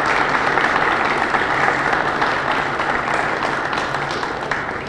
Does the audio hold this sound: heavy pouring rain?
no